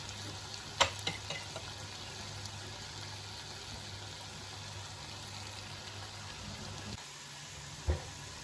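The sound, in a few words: potatoes frying in a pan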